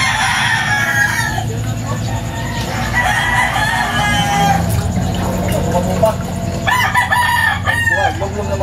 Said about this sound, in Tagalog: Nag-contest yung mga manok dito